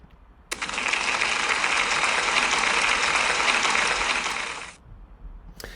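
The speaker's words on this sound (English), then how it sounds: "can we give Alexa, Austin and Brooklyn a big round of applause, please?" A school celebration audience claps for pupils' artwork in a burst of applause that starts abruptly, holds steady and dense for about four seconds, then fades out, with no talking over it.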